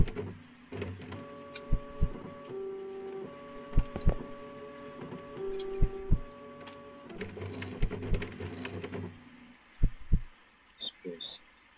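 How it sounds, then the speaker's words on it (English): An office printer in a video game whirring and clunking through a print job, steady mechanical hum with rhythmic tonal pulses and clicks, fairly close, with a voice talking over parts of it. "What's the printer doing?"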